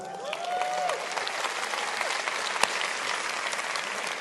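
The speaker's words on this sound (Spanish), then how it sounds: "Denles un buen aplauso." A church audience bursts into steady, dense applause that carries through the whole stretch, with one sharp louder clap near the middle.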